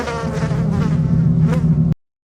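Flies buzz steadily and close by, a continuous droning hum that runs without a break for about two seconds before stopping abruptly.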